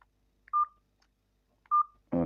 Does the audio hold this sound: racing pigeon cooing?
no